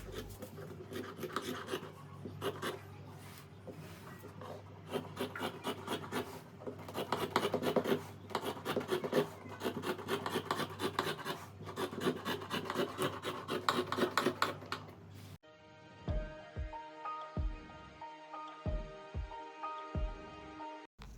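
Scissors cutting boubou fabric pieces for sewing: fast, continuous snipping and rasping of blades through cloth for about fifteen seconds, then a quieter stretch with a few separate sharp clicks and snips.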